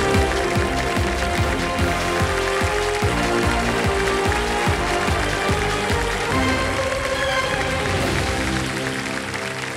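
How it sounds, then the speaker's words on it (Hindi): Studio audience applause on the Kaun Banega Crorepati quiz show: a loud, dense, continuous wash of clapping that runs steadily through the whole stretch, with a rhythmic low pulse beneath it. "तालियां बजाएं।"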